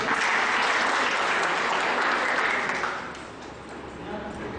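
Vigorous audience applause at a teaching skills seminar, loud dense clapping from a hall full of people that tapers off slightly near the end.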